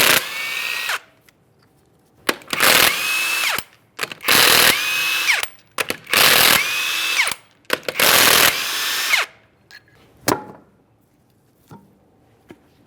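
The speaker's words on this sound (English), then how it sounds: "we're going to remove all 5 of our 21mm lug nuts and we can get the wheel off of here" A power impact tool whirs and ratchets in five loud bursts as 21mm lug nuts come off a rear wheel of a 2005-2010 Chrysler 300, each burst separated by short pauses and small metallic clinks.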